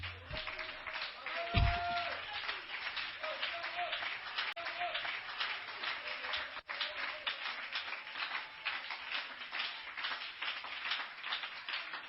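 A church congregation applauds together in a sustained, dense wash of clapping that runs steadily throughout, loud and close, with a brief voice at the start.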